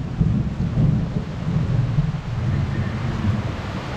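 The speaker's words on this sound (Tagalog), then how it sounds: "lumalakas pa lalo yung ulan" Low rolling thunder rumbles through a loud, constant wash of intensifying heavy rain, with gusty wind noise buffeting the microphone.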